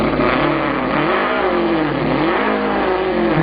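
A person mimics a Volkswagen car engine revving with their mouth, a steady, continuous buzzing drone that rises and falls in pitch for several seconds, close and loud.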